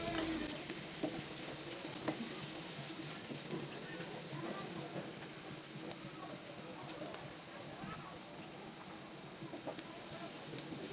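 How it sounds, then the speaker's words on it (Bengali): Onions fry in a pan for a bitter gourd dish, a faint, continuous sizzle with occasional small clicks and pops from stirring. "পেঁয়াজটাকে আমি একটু ভালো করে ভেজে নেব।"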